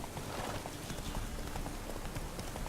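Roach, Geralt's horse in The Witcher 3, trotting with a steady stream of faint, soft hoof clops over a dense, noisy background wash.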